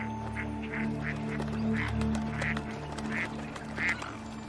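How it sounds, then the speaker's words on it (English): A lone duck in an Arctic wildlife setting gives a series of short quacks at an irregular pace, moderately close, over a steady low background drone. "This solitary duck, perhaps."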